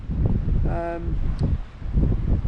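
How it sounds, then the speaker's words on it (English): Strong gusts buffet an outdoor microphone on a windy fishing outing, a steady low rumble with surges and dips throughout, while a brief tonal hum briefly rises underneath. "It's probably just a lot of wind noise."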